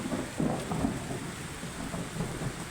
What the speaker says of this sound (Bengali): বিদ্যুৎ চমকাচ্ছে, বজ্রপাত হচ্ছে।